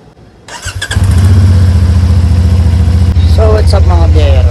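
A CF Moto 450NK motorcycle engine starts and settles into a loud, steady, close idle with a deep rhythmic throb, while people talk and cheer excitedly over it.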